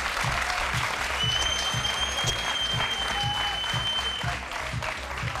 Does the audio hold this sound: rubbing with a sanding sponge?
no